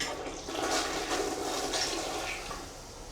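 A toilet flushes in a bungalow whose toilets are clogged and nearly overflowing, a steady rushing gush of water that holds for about two seconds and then tapers off, close by with no talking.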